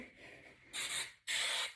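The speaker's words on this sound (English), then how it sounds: "I love Treseme's hairspray. This is the number 4. And I will just spray a little bit" TRESemmé number 4 hairspray is sprayed onto hair in two short, close hissing bursts separated by a brief pause.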